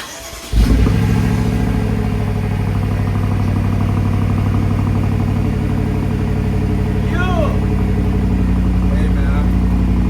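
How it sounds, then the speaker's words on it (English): A BMW X6M engine fires up from a cold start with a sudden loud burst, then settles into a deep, steady, rumbling high idle that holds close and loud. "let me get all this cold start and some revs too"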